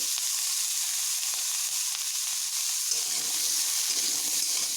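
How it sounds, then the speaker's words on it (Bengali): Pumpkin pieces fry with turmeric powder in a pan, giving a steady, close, continuous sizzle with occasional stirring and no pauses. "নিয়ে এগুলোকে বেশ ভালোভাবে একটু ভেজে নেব।"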